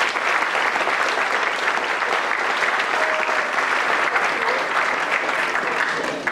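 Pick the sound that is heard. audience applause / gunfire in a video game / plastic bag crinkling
audience applause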